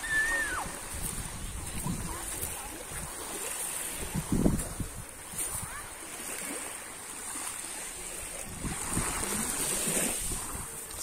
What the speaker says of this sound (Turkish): Son olarak sizi dalga sesleriyle, rüzgar sesiyle baş başa bırakıyorum.